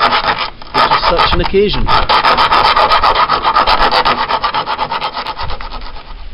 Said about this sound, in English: So I'm going to get the file first, see if I can make it large enough.